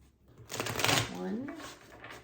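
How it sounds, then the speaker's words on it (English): Tarot cards shuffled by hand at close range, a short riffling burst of crisp papery flutter that swells, then settles into a softer rustle. "3 more shuffles for Pisces, please."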